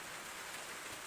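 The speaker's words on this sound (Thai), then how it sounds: "จนแจ้งเลยฝนตกอยู่นี่พี่น้อง" Rain falling steadily on a garden plot of taro and cassava at dawn, a faint, even hiss of drops with no other sounds.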